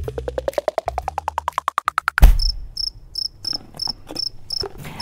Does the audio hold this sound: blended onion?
no